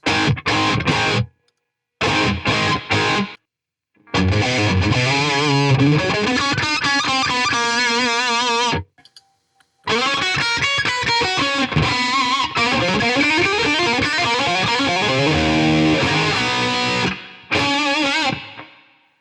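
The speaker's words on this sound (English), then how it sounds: "check out their 63 reverb" A distorted electric guitar plays bursts of riffs and bends through a '63 spring reverb effect in BIAS FX; drippy reverb tails ring out through the short silent gaps.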